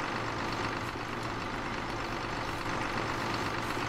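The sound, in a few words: tractor engine in video game Farming Simulator 2015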